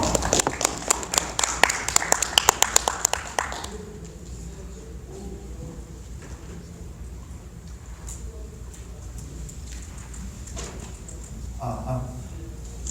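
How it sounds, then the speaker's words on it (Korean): An audience applauds to welcome the head of a startup presenting on big data at a 2017 seminar: dense clapping for about three and a half seconds, then it stops and a voice starts speaking over quiet room noise. "김명란 대표님을 큰 박수로 맞이해 주시기 바랍니다"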